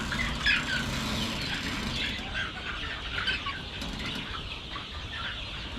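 Chickens on a farm flapping their wings and clucking, a busy, continuous flock sound with flurries of wingbeats and overlapping clucks, fairly close and steady throughout.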